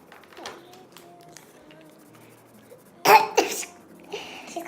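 Quiet murmuring background, then a couple of sharp, loud coughs close by, followed by softer throat noises.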